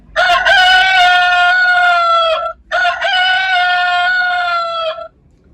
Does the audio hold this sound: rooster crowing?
yes